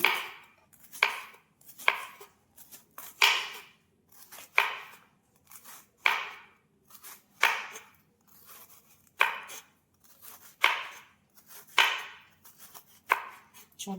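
A knife chops bitter gourd with its skin left on, striking a board in a steady series of sharp, close cuts with short pauses between them and no talk over them.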